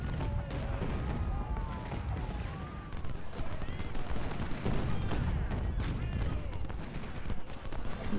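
Continuous infantry musket volleys in the Civil War game Ultimate General, steady crackling gunfire with repeated distant bursts over eight seconds, mixed with faint tonal game sounds, no talk.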